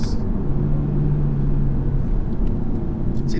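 A 2019 Audi RS3 engine while driving, a steady low rumble and drone from inside the car, continuous and even throughout with faint road noise and no talk.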